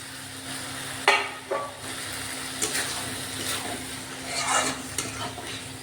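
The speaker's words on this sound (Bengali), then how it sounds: "এবার একটু কষানো হবে এটা" Spice masala with whisked sour yogurt frying in oil in a pan, a close sizzle broken by several scraping stirs of a spoon against the pan.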